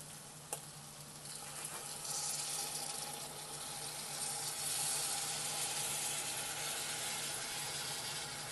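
Water being poured into mutton liver curry frying in a pan brings a short clack, then a broad rushing hiss and bubbling sizzle that swells and holds steady for several seconds, close and continuous with no speech.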